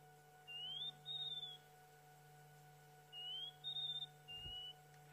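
A scrub robin whistles clear, sliding notes during an evening safari, with two phrases a few seconds apart. It sounds like it is mimicking other sounds, such as a tracker's whistle, over a faint steady hum.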